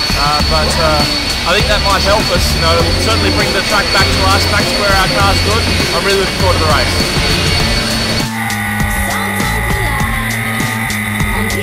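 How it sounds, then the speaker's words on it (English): Jet dryers roar with a continuous high whine behind someone speaking, drying a wet short track at Richmond after rain; the drone stays loud and steady, then shifts tone near the end. "You can hear the jet dryers whizzing in the background."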